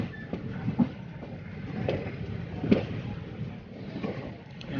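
A passenger train running between Tiruchirappalli and Pudukottai rumbles steadily, with occasional rattles and knocks from the carriage sounding over the constant rolling noise inside the coach.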